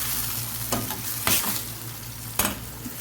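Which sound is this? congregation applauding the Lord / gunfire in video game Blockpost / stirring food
stirring food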